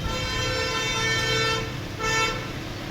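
Traffic in India with car horns honking: several sustained horn toots sound over a steady road rumble of engines, moderately loud, with no clear voices.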